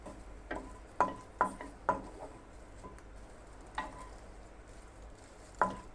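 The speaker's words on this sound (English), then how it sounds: "Stirring up the sausage here." Sausage cooking in its own rendered fat is stirred, giving a faint background sizzle broken by scattered sharp scrapes and taps of the utensil against the pan.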